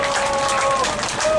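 An audience at a labor union solidarity rally in Korea applauds, a dense wash of clapping from a crowd heard steadily and fairly loud for a brief moment with a voice over it.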